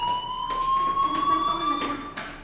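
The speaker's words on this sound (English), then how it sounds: "Hey, do you hear that fire alarm?" A fire alarm rings in the video game Life is Strange, a steady tone slowly rising in pitch and holding on alone over a faint background hum for the whole stretch.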